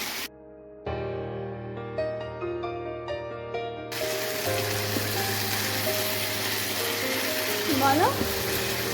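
Whole onions and mutton stirred and sautéed in a pan for a Bengali badshahi mutton, a steady broadband sizzle and scraping running from midway after an opening stretch of tonal music, continuing under faint background sound.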